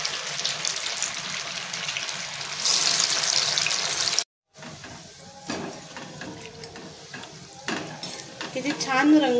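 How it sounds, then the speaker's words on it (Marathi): Soybean kebabs frying one by one in hot oil give a lively sizzle with stirring and clatter, broken by a brief silent gap before the crackling resumes. "असे एक एक करून आपल्याला तळून घ्यायचे।"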